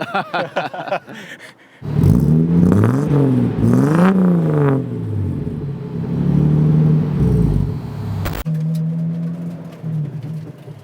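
A Nissan 280ZX resto-mod's engine revs up and down in repeated loud surges from inside the car on a ride, with the gears rising and falling, then settles to a steadier drone before cutting off.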